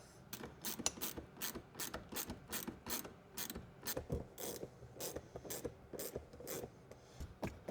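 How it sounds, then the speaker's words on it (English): Ratchet wrench tightening bolts on an interior part of a barn-find Pontiac Firebird, a close, steady run of quick clicking strokes in short bursts with metallic ratcheting, no talk. "Get this thing bolted down, put this top plate on here."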